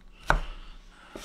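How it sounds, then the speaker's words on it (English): A kitchen knife chops vegetables for soup on a board, two sharp close thuds spaced about a second apart with quiet between them. "keep hitting it with a knife like this until it's smaller"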